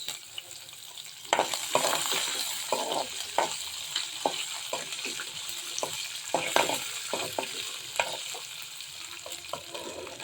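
Green chillies, cashews and ginger fry in hot oil in a pan with a soft, continuous sizzle, broken by frequent sharp crackles and spoon-stirring scrapes, close by.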